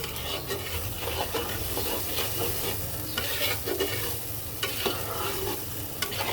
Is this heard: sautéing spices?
yes